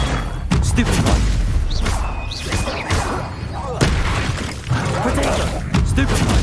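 Stupefy stunning spell impacts in the Hogwarts Legacy video game: a string of heavy booming thuds and crackling bursts land every second or so over dense, continuous combat noise, with a voice faintly mixed in.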